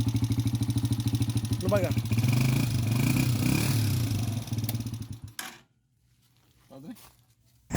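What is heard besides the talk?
motorcycle engine running after CDI rewiring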